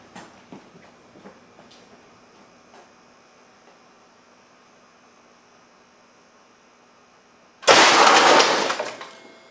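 An air cannon charged to 500 psi fires into three old computers. A burst of loud, broadband crashing and shattering lasts about two seconds near the end, after a long stretch of quiet background hum with a few faint clicks.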